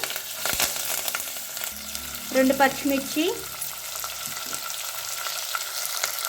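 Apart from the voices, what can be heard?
onions and curry leaves frying in tempering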